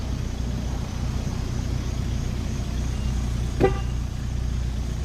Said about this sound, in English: Are you honking?